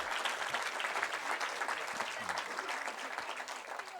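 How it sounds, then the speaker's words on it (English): An audience at an East Boston community event with Massport gives steady applause for young people, a continuous even patter of many hands at moderate distance, fairly soft and unbroken throughout. "How about a round of applause for our young people as well?"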